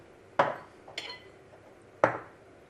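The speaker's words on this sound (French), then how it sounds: "On va délayer la maïzena." A spoon clinks against a bowl while cornstarch is stirred into three tablespoons of water: three sharp, close taps, the second one softer, with quiet pauses between them.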